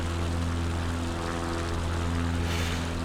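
A propeller aircraft engine drones in Microsoft Flight Simulator during an Alaska bush flight, a steady loud hum with strong low tones holding constant throughout.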